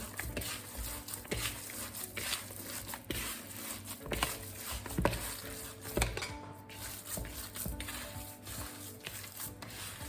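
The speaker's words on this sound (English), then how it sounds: "I'm just gonna mix this all together" Meatball mixture with breadcrumbs is kneaded by hand for Italian wedding soup, making soft, wet squelching and pattering sounds with faint clinks of a bowl, steady and fairly quiet.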